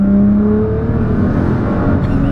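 A Nissan GT-R tuned to 1800 hp revs loudly up close, the engine note climbing and holding as the sensitive throttle is pressed, then easing back, with no voices over it.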